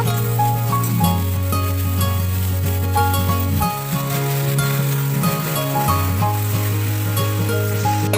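Leaves tossed into a hot pan in a home kitchen give a steady sizzle and crackle, which runs continuously beneath loud background music.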